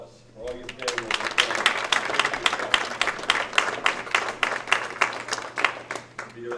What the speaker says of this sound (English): give them a round of applause for all your families and